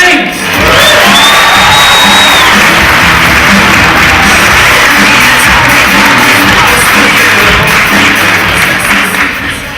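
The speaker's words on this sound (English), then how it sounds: "give a massive round of applause for Elijah James." Loud live audience at a competition bursting into sustained applause, whoops and cheering that fill the space and carry on steadily without pause.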